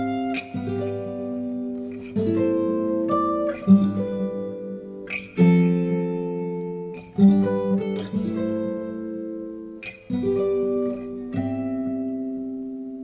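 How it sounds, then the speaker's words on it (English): An emotional guitar chord progression moves its bass note down the scale, each chord strummed or picked and left to ring before the next, with about eight chord changes played alone and clearly. "Now the chord progression that I'm gonna play sounds like this."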